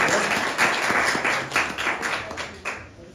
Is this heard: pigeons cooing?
no